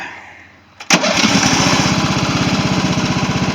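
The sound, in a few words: plastic riding mower engine running, throttled up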